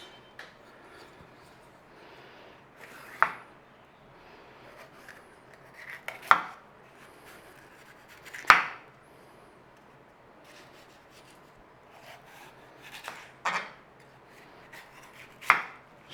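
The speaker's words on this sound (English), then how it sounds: "We're just slicing them." A knife slices through peppers and onion on a chopping board, giving sparse, separate cuts several seconds apart that land as soft thuds against quiet background noise.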